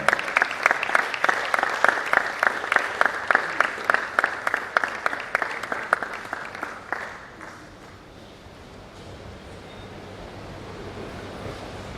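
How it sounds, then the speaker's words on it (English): An audience at a medical college scientific conference claps steadily for about seven seconds, then the applause fades out, leaving quiet room tone. "Please let's keep clapping."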